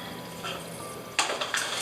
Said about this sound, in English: So I'm just gonna throw the oatmeal in first. And hot water.